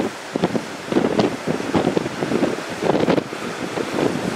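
Strong outdoor wind buffets a microphone on a Steadicam Volt rig, producing loud, low rumbling gusts that swell and fade in irregular pulses, with no voices.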